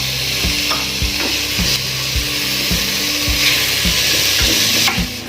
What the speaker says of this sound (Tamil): இப்போ பொடியாக கட் பண்ணி வச்சுருக்க தக்காளியை சேர்த்துடலாம்.